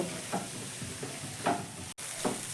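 A spatula scrapes through a tiffin mixture with chopped coriander in a pan, giving a few separate stirring strokes with a soft sizzle between them, close and fairly quiet.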